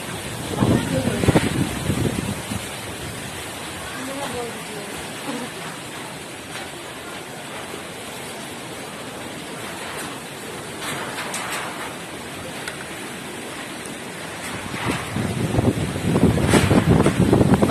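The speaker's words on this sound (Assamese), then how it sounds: "হঠাৎ কোপা এইটো ইমান ডাঙৰ বতাহ ধুমুহা আহিল" A strong night windstorm gusts hard around a house, a loud roaring rush that swells at the start and end with buffeting against the microphone, while a person talks through it.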